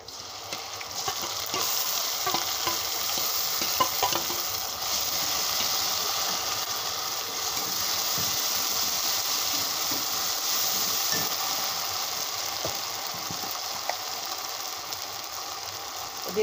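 Ground spice paste with turmeric frying alongside lightly browned onions in a pan, giving a steady broad sizzle and hiss with occasional scraping clicks of stirring, close and continuous with no talk.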